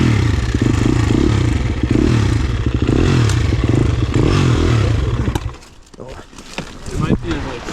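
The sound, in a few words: four-stroke dirt bike engine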